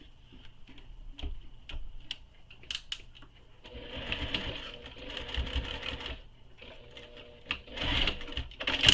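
A sewing machine top-stitches zipper tabs on a backpack, starting with a few isolated ticks and clicks, then running in fast steady bursts of rapid stitching, fairly quiet and close, with short pauses between runs.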